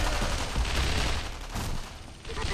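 Russian and German troops trade fire in Sniper Elite V2, a far-off fusillade of mixed rifle and machine-gun bursts rolling on continuously with no nearby talk.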